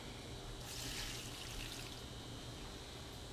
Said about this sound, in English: And this is 3 cups of water.